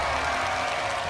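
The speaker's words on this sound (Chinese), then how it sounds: "热情的掌声欢迎我们的黄金观众" Studio audience clapping on a CCTV game show stage, a dense steady wash of applause filling the whole brief moment with no voices over it.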